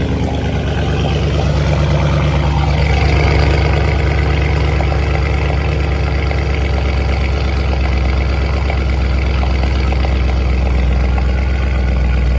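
A Dodge Charger Scat Pack idles close by with a loud, steady, deep rumble that holds without change throughout.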